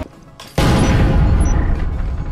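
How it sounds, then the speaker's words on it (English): An incendiary grenade in the Breachers VR game goes off with a sudden loud burst after a quiet moment, followed by a sustained roaring, crackling rumble that slowly fades. "I wanna walk over this incendiary grenade."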